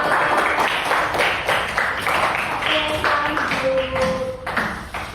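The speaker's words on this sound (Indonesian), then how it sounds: "Coba tepuk tangan buat kelompoknya Mbak Cinta." Students in a classroom clap for a classmate's group after a presentation, a loud, somewhat uneven patter of hands close by, with a brief tonal ping and some muffled voices mixed in.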